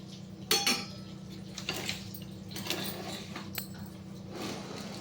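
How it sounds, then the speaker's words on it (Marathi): A spoon stirs sugar syrup in a pan for gulab jamun, giving a few scattered clinks and scrapes over a steady low hum, fairly quiet and without speech. "याला दोन मिनटं मी चांगला असा हलवून घेणार आहे"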